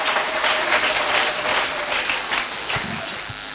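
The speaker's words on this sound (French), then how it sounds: "Acclamons plus fort." A church congregation at a Sunday service applauds. Dense, steady clapping continues throughout the short stretch, with a few louder individual claps near the end.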